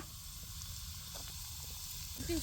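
Steady, quiet sizzling hiss of garlic in hot oil, with a faint crackle near the end and no voices.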